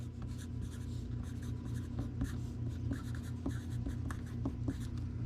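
A marker or pen scratches out a short phrase on a legal flat rate mailing envelope, with close, quiet rhythmic strokes and small taps against the paper over a low background hum.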